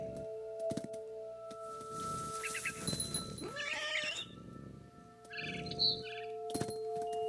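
Cat meows in the video game What Remains of Edith Finch, a few short mewing calls mixed with game ambience, chirping bird calls and clicking sounds, with no talk.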